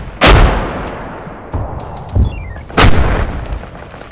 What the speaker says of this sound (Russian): По нам еще работает миномет